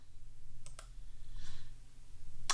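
Two quick, sharp computer mouse clicks, close together and faint, open a browser extension popup against a low steady hum, with no talking.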